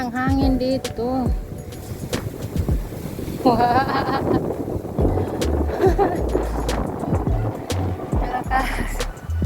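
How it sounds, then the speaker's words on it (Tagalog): Strong mountain wind buffets the microphone in heavy gusty rumbles at sunrise, with people talking intermittently over the blustery roar. "Lakas ng hangin."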